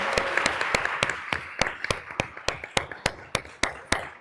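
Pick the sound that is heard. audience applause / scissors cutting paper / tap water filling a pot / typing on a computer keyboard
audience applause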